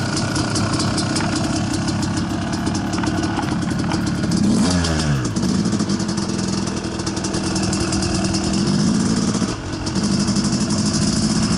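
A Yamaha YZ250 two-stroke motorcycle engine, freshly rebuilt after a blown piston, runs loudly and close throughout a warm-up, with a steady rapid idle and brief blips of revving midway and near the end, and no talk.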